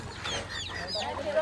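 Hens and their chicks in a farmyard cluck and peep continuously at close range under a person talking, with scattered high chirps rising above the steady bird chatter.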